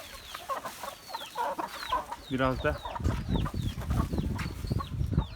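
Young cockerels cluck and peep restlessly in a farmyard, calling for their mother hen in a busy, overlapping flurry of calls with a person talking briefly alongside.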